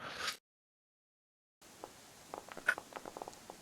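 Rain falling in the video game Pathfinder Kingmaker: a faint, steady hiss scattered with soft patters and ticks, returning after a stretch of silence and a brief burst at the start.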